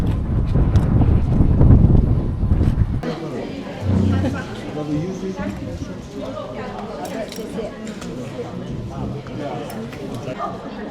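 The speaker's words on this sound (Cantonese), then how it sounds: "哎呀，好大風啊，好大風啊" Strong wind gusts buffet the microphone with a heavy, roaring rumble that eases after a few seconds, while people talk in the background, at Sayram Lake.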